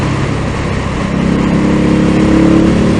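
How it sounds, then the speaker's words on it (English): Indian Scout Bobber motorcycle accelerating, its intake howling as a steady loud engine drone that rises and thickens partway through, mixed with wind rush and exhaust while riding. "It's louder than the wind noise and the exhaust when that intake is howling."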